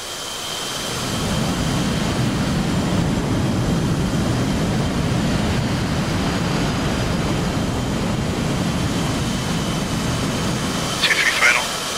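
A C-130J transport aircraft in DCS World on final approach to land, with a steady, loud engine roar and rumble that holds throughout, a brief sharper sound near the end.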